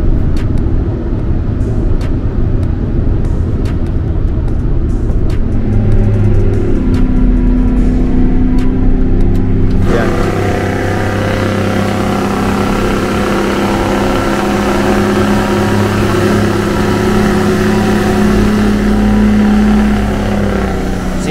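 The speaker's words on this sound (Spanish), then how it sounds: "lo que escuchaban es el freno de motor de ese carro." Gas-powered tractor-trailer truck on a road in Colombia with its engine brake engaged, a loud, sustained low rumbling drone that shifts to a smoother, steadier hum partway through.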